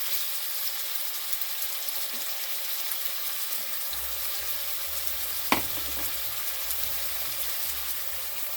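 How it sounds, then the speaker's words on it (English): Beef liver frying with seasoning in a hot pan, a steady close sizzle with a brief clatter partway through as it is stirred. "I like to fry it with some of the seasoning."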